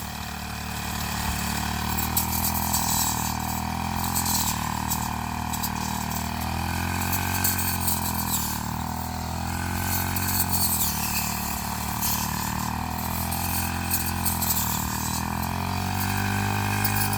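Engine-driven fodder cutting machine running steadily, a continuous loud mechanical drone with a low engine hum and rattling, chopping texture throughout, no speech over it.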